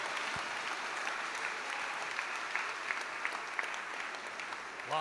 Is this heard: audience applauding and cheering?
yes